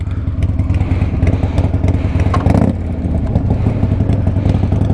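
Motorcycle engines idle and rumble loudly nearby, a steady low chugging with some clatter as the bikes prepare to move off.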